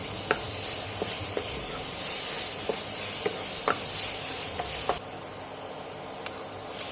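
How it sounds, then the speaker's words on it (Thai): Two spoonfuls of garlic sizzle in hot oil in a wok, a steady close hiss broken by scraping taps of a spatula as it's stirred, the frying quieting noticeably near the end. "เตรียมกระเทียมมากระเทียมก็สองช้อนโต๊ะนะครับ ลงไปผัดเลยครับ"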